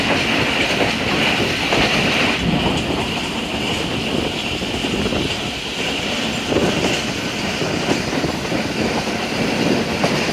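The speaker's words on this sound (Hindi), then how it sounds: "अब अवाम एक्सप्रेस क्रॉस कर रही है। कराची से आकर पेशावर जा रही है" The Awam Express passenger train, running from Karachi to Peshawar, passes on the railway, a steady close rumble with rhythmic clickety-clack of wheels on the track, continuous throughout, no talking.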